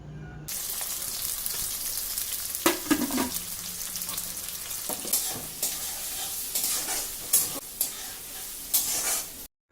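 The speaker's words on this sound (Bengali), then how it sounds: "সেই পেঁয়াজটা আমি তেলের মধ্যে দিয়ে দেব দিয়ে এবার পেঁয়াজটা ভাজা করে নেব" About two hundred grams of chopped onions fry in hot oil in a wok for a home-style chicken korma, with a bright, continuous sizzle and repeated scraping stirs of a spatula.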